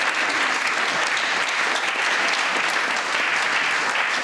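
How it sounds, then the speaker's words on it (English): Dense, steady applause from a theatre audience at a psychic stage show, loud and continuous throughout with no talk over it. "Can we have a massive round of applause?"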